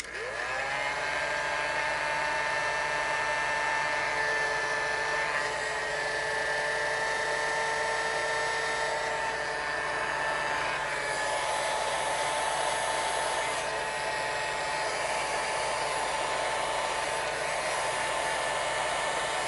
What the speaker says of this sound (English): And heat gun on low.